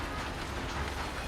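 A steam-era train in Red Dead Redemption 2 rolls along with a dense, steady rumbling roar of wheels and carriages, close and continuous.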